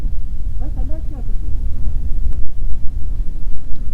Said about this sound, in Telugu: గాలి అయితే ఘోరంగా వస్తుంది